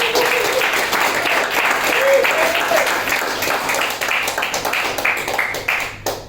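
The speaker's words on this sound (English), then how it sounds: "Everyone's clapped" An awards ceremony audience applauds in a sustained, dense wash of clapping that fades a little toward the end.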